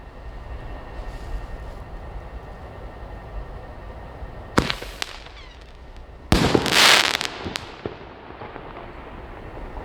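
37mm shell-on-mortar fireworks fired outdoors: a quiet ambient stretch, then a sharp launch thump with a whooshing rise, followed by a loud crackling burst that fizzles out, heard at a moderate distance.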